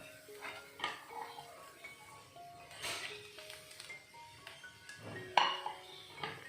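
Grated coconut being stirred into carrot thoran in a pan, with soft scraping and a few light clinks of a spoon against metal at moderate distance, faint and irregular.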